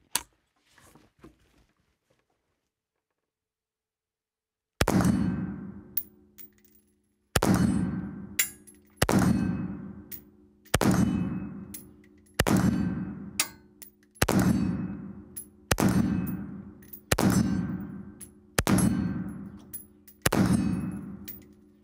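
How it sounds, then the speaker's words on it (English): A Zastava PAP M90 5.56 rifle firing at a steel target about 55 yards downrange: after a few faint sounds, ten sharp shots come at steady intervals of roughly two seconds, each followed by a ringing metallic clang from the hit. "let's put some rounds on that steel target down there"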